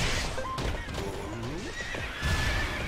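A horse in the Zelda Hyrule Warriors video game neighs with a loud, wavering whinny, accompanied by clip-clopping hooves and game sound effects throughout.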